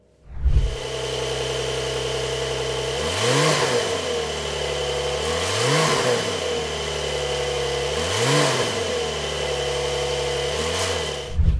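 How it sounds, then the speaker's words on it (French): A Porsche 911's exhaust idles with a deep, steady drone, broken by about four sharp revs that rise and fall back in regular succession. The car is close and loud, and no one speaks. "Avant de faire un petit tour, on va écouter l'exhaust."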